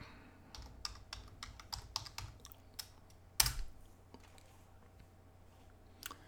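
Someone types on a computer keyboard in short bursts of close, crisp key clicks, with one sharper louder strike near the middle and a quiet pause before a final tap.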